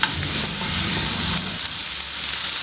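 Onions frying in a pan for a tomato-onion chutney, a continuous soft sizzle with faint stirring scrapes near the start, close and even throughout.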